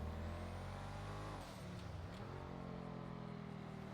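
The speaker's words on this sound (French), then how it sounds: "Et le bruit du véhicule, écoutez." A police patrol vehicle's engine revs up in rising tones, dips as the gear changes, then climbs again, a continuous close motor sound with no voices.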